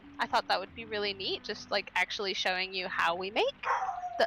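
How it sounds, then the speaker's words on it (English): A dog barks a few times in short bursts indoors during a podcast conversation, mostly under and between continuous close talking. "Oh, that was a dog."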